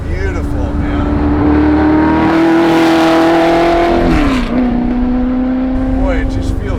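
A Superformance Ford GT40 Mk1 replica is driven on the road in low gears, its engine loud and close, revving up through a rising pitch, dropping briefly on a shift, then pulling again with a strong, rough roar throughout.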